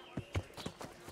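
Horse hooves in the video game Kingdom Come: Deliverance, a quick rhythmic run of about five soft clip-clop beats, faint and fairly close.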